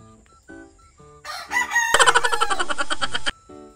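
A rooster crows one long, loud cock-a-doodle-doo close to the microphone. Shorter clucks and calls lead into it, and a few faint calls follow, with no talking.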